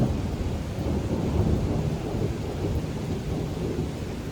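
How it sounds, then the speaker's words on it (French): Steady thunderstorm with rain in a jungle at night, a continuous broadband wash of rainfall with low rumbling thunder rolling underneath, close and fairly loud throughout with no voices. "s'endormir bercé par le doux bruit de l'orage et de la pluie qui goutte comme ça au milieu de la jungle"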